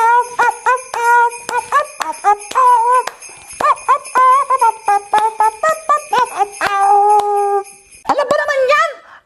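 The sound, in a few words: dog howling as if singing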